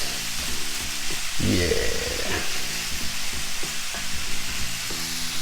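Creamy Cajun chicken pasta sauce sizzles and bubbles steadily in a pan, a close, continuous frying hiss with soft stirring, while a person briefly speaks over it.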